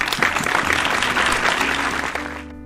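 An audience at a 75th anniversary celebration claps in loud, dense applause that swells and then tapers off over a few seconds.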